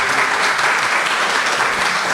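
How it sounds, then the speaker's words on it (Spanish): Steady applause from a conference audience fills the short stretch, dense and fairly loud with no talk over it. "merece por lo menos un aplauso"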